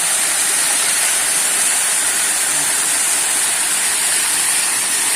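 Steady broadband roar of a waterfall in the Anjasmoro forest, a loud continuous rushing wash of falling water with no talk over it.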